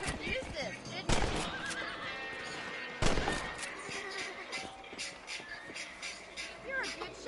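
Horses in Red Dead Redemption whinnying loudly twice, at about one and three seconds, with hooves clip-clopping between the calls and a voice talking over parts of it.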